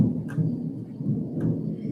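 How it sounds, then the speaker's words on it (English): Thunder rumbles during a thunderstorm over Western Connecticut, a deep continuous low roll with no talk, strong enough to shake a house. "Thunder just shook the house."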